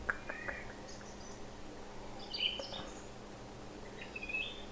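Faint tropical ambience with scattered high bird chirps and calls over a soft steady insect hum, distant and quiet, no talking.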